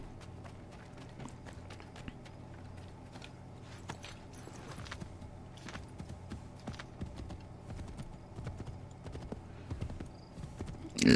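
Quiet, rhythmic hoof clops of a horse running in Assassin's Creed 3 video game, faint and steady throughout, with a louder thump at the very end.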